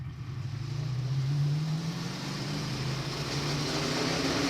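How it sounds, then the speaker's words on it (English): A NASCAR race car engine accelerates with a steady, loud drone whose pitch climbs gradually over several seconds. No voices are heard over it. "Pitch of the engine is getting much higher."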